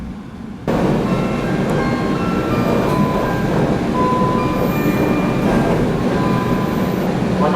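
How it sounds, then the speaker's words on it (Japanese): The WEST EXPRESS Ginga, a 117-series express train, pulls away from Shimonoseki Station, a rumbling roll of wheels rising after a short quiet start, with faint clicks and squeaks throughout. "19時43分、特急銀河は下関駅を静かに発車しました。"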